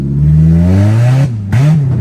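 Tuned Suzuki FX car revving hard as it accelerates, the engine note climbing steadily, then cutting out abruptly for a moment before picking up again, loud and close.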